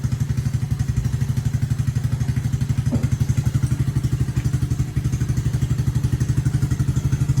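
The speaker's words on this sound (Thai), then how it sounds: "มาลองรถตอนเช้าค่ะ" An ATV engine idles and putters steadily during a morning test drive at a rural home in Prachinburi, Thailand, its low chugging pulse continuous and close throughout with a faint thud near the middle.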